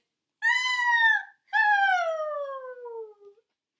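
A high-pitched, squeaky two-part snore, a short squeak in then a longer whiny squeal out, close and clear, likely a voice imitating it.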